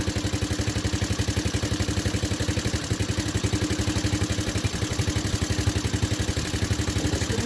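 A restored ATV engine runs steadily at idle nearby, its rapid, even putter thrumming throughout with a faint mechanical clatter on top and no voices.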